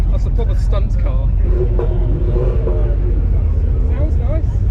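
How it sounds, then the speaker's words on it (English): A Lamborghini Huracan engine revving at a motoring event, a deep rumbling drone that swells and rises in pitch under loud, continuous talk from nearby people. "Tim's revving the Huracan."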